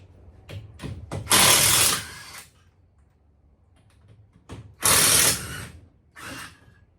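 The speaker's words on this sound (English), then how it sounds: "we're going to start taking the pan bolts out all along each side first" Pan bolts come off a 1972 VW Super Beetle as the body is separated from the pan, with a few short clicks followed by two loud whirring bursts of a power tool and a shorter third burst, close by and with no talking.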